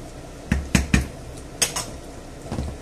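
Rice tipped into a cooking pot for a budget meal: a few quick clattering knocks of metal and grains hitting the pot, then a soft scrape and a last clink, close by.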